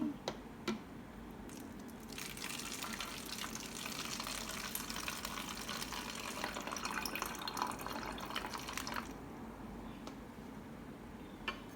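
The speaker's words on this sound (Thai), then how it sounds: "เมื่อเทน้ำมะกรูดผสมกับน้ำเปล่า" Kaffir lime juice mixed with water pours steadily for several seconds, a gurgling splash that starts and stops cleanly, with a few small clicks before and after.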